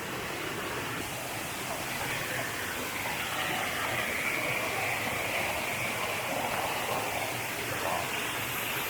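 Waterfall at Plitvice National Park in Croatia, heard from its edge with a drop of hundreds of meters: a steady, broad roar of rushing water, close and constant, with no clear voices.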